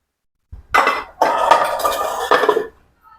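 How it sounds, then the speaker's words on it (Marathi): A metal cake tin of mawa cake batter goes into a preheated pressure cooker for baking on a gas stove, a short run of close metallic clanks and scrapes, then silence. "आता हा आपण टीन कुकरमध्ये भाजण्यासाठी ठेवूया"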